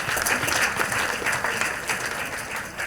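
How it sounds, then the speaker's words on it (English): A church congregation claps together during a worship service, a dense, lively wash of many hands sounding close and continuous with slight swells in intensity. "Clap for Jesus Christ."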